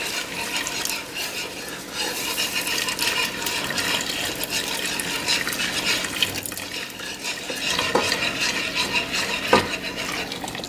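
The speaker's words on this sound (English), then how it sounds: "make sure you continue whisking so that you don't form any lumps with your flour" Heated milk whisked into a butter and flour roux for lobster mac and cheese, producing a busy, continuous swishing and liquid stirring close by, with scattered metallic clicks of the whisk against the pot and no talking.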